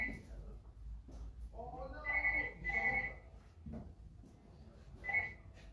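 A phone rings during a live stream, with several short bright tonal bursts that repeat in a warbling pattern while someone talks over and between them.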